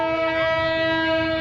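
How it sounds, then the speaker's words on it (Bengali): A train sounds a sustained, loud horn as it approaches, the steady multi-tone blast held without a break and close by. "ট্রেন আসতেছে"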